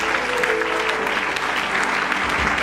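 A congregation at a religious service claps and cheers loudly and continuously, a dense wash of applause throughout.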